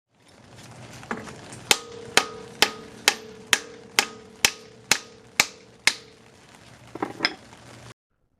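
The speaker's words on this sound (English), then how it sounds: "so I used a block of wood and a sledgehammer" A sledgehammer strikes a block of wood in a steady series of about ten sharp, ringing blows, evenly spaced and close by, during a 1999 Acura RL starter replacement, with no talking.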